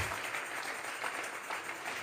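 Church congregation applauding during a Sunday service, a steady wash of clapping at moderate distance that holds evenly throughout without pauses or voices.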